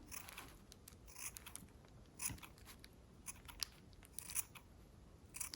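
Sharp scissors snip through yarn while a pompom is trimmed, with quick repeated crisp cuts in an uneven rhythm, close and quiet with no talk.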